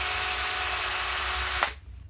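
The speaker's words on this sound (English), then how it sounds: "We got a drill." A power drill runs steadily at high speed for about a second and a half in a saltwater aquarium refugium DIY build, then cuts off abruptly, leaving quiet room tone.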